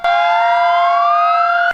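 A memorial siren wails loudly during a commemoration ceremony in Kayseri, a sustained tone whose pitch climbs slowly over nearly two seconds before cutting off abruptly.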